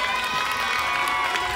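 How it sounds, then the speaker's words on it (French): A dense crowd at a bathtub race in L'Isle-Adam cheers and claps continuously, a steady wash of shouting voices and applause at constant loudness throughout. "On applaudit bien fort."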